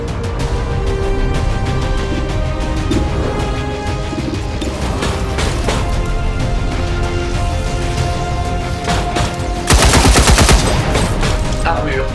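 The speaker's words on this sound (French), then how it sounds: "Je tire mes dernières munitions." Gunfire rattles in the turn-based strategy game XCOM 2 as a soldier spends the last ammunition, with loud bursts over a dense, continuous game soundscape and a sharp, louder volley near the end.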